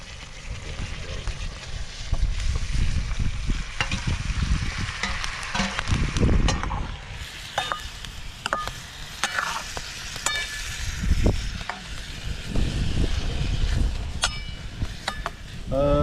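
Wam eel pieces fry in a pan at a night campsite and get stirred, with steady sizzling broken by scraping and clinking strokes of the utensil over sixteen seconds.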